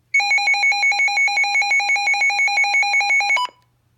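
American Red Cross FR-370 weather radio sounding its alert test tone: a loud, rapid electronic warble of evenly pulsed beeps, about a dozen per second's span, running steadily for over three seconds before cutting off abruptly into silence.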